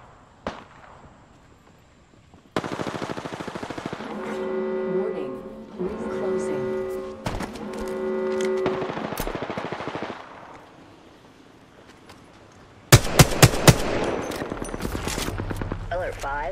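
Bursts of automatic gunfire from the Apex Legends video game, with a few sharp shots early, a long rattling volley in the middle and a dense loud burst near the end, under intermittent talk.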